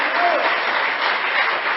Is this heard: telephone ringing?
no